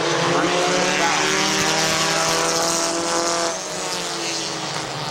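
Stock compact race cars roar around the Midvale Speedway oval, engines loud and sustained with a rising and falling pitch as the pack passes close, a crowd-level din underneath.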